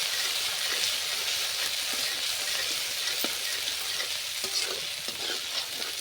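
Spice paste with five-spice tempering frying on a low flame for Bengali cabbage, a dense, even crackling sizzle with faint spoon scrapes, steady and close.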